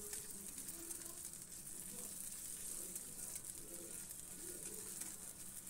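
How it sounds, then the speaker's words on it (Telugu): Green chilies, curry leaves and coriander fry in oil with a steady, soft sizzle, while pigeons coo faintly in the background. "2 పచ్చిమిరపకాయలు, కొంచెం కరివేపాకు, కొంచెం కొత్తిమీర వేసుకుని ఆయిల్లో ఫ్రై చేసుకోవాలి"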